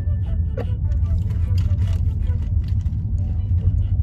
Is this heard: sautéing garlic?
no